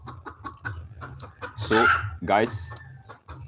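Local chickens on a farm cluck in short, repeated bursts, with a couple of louder drawn-out calls in the middle, while someone speaks briefly.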